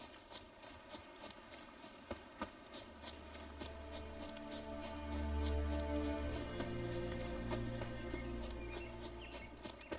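A horse's hooves clip-clop at a steady walking rhythm in The Witcher 3: Wild Hunt, over game music with low sustained tones, moderately loud and close.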